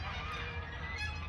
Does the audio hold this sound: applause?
no